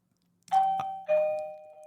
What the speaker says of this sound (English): Someone's ringing a bell